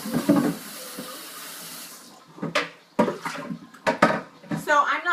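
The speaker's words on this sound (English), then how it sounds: "I will just rinse out my Vitamix" Water runs and splashes as a Vitamix blender jar is rinsed at a kitchen sink, steady flow at first, then broken sloshing and clunks, with a voice speaking over it.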